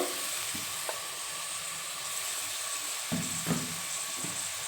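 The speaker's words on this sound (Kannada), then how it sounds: "ತರಕಾರಿ ಎಲ್ಲನೂ ಸ್ವಲ್ಪ ಹಸಿ ವಾಸನೆ ಹೋಗೋ ತನಕ ಚೆನ್ನಾಗಿ ಹುರ್ಕೋಬೇಕು" Chopped vegetables and tomato fry in a pan with a quiet, steady sizzle and a few soft stirring knocks, close by, with no speech.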